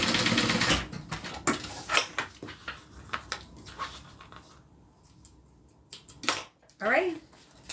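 A sewing machine stitches a wallet piece in short, uneven bursts of rapid mechanical chatter, up close, with pauses and handling clicks between them.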